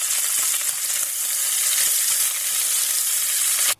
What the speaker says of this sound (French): on va faire dorer la viande. Donc on va la retourner jusqu'à ce qu'elle soit bien dorée de tous les côtés